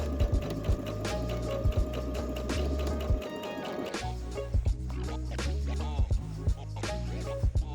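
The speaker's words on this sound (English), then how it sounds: "we will sew the side seams with a 1 cm or 3/8 of an inch seam" Sewing machine stitching the side seams of a tie-front vest with a 1 cm seam, running in steady rhythmic bursts with a short pause in the middle, close and clear.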